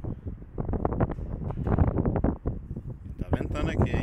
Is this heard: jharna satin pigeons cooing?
no